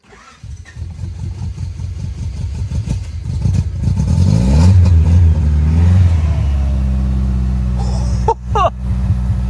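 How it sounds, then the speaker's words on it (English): A third-generation Honda Prelude engine cranks and catches, revving roughly, with sharp popping bursts of intake backfire near the end over a steady idle. "It definitely just backfired out of the intake."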